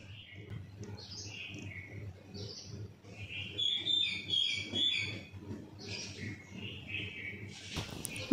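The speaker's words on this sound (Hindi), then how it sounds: "बड़ी प्यारी सी आवाज़ आ रही है यहाँ पे चिड़ियों के चहचहाने की" Small birds chirp and twitter in the early morning around 7 o'clock, a busy chorus of high, bright calls continuing throughout over a low background hum and murmur.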